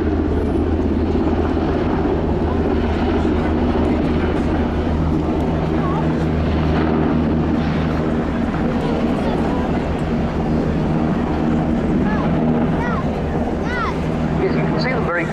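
A German Army Aviation NH90 TTH helicopter flying a display at the RIAT 2022 airshow: a loud, continuous rotor and turbine roar with a commentator talking over it throughout.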